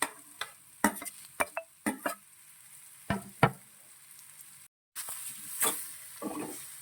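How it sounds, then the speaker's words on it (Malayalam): Chopped tomatoes stirred in a frying pan, a soft sizzle under irregular sharp clinks and scrapes of a spoon against the pan, close and quiet, no talk. "നമുക്ക് അരിഞ്ഞു വെച്ചേക്കുന്ന തക്കാളി നമുക്ക് ഇട്ട് കൊടുത്തിട്ട് ഒന്ന് ഇളക്കി ഒന്ന് യോജിപ്പിച്ച് കൊടുക്കാം"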